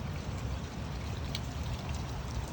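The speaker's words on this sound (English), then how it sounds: "Just too much rain." Heavy rain pours steadily into a flooded yard pooled about three inches deep, a dense, even wash of water noise that stays constant throughout with no voices.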